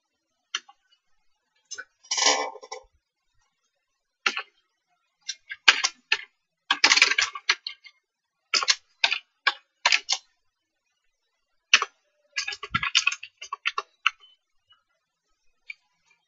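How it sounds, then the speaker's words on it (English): Someone types contact details on a computer keyboard. Short bursts of quick, close clicking alternate with silent pauses, irregular in rhythm, with no voices. "You need to type the details and make sure that the first letter should be in capital letter."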